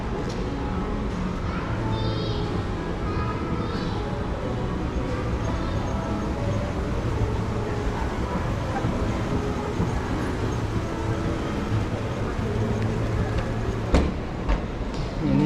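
An electric train passes at night in Vientiane, Laos, giving a continuous, moderately loud rumble and rush mixed with busy city street noise. Faint background voices are also heard.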